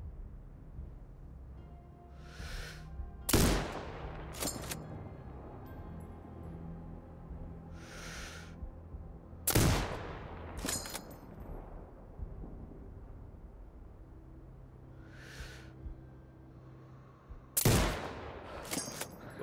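Sniper rifle shots in Sniper Ghost Warrior Contracts 2: three loud, sharp cracks spaced several seconds apart, each with a rolling echo, over a quiet ambient bed with faint intermittent hissing.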